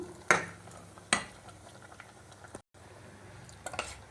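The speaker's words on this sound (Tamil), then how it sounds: "இப்போ இதை நல்லா கிளறி விடலாம் ஒரு கொதி வர விடுறேன்" A spoon scrapes against a pot a few times while a thick banana stem kootu curry with ground coconut masala bubbles gently underneath, with quiet pauses between the stirs.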